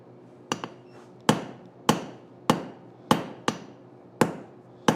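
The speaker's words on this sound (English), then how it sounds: "Don't like hammering like this." Hot metal hammered at a forge, with about eight sharp, ringing hammer blows landing at an irregular but steady pace. Each strike is loud and close, with a short decay and no talking.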